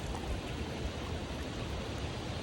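Steady broadband rush of a mountain stream flowing on a wilderness route toward a pass in Fiordland, constant and fairly close with no voices over it.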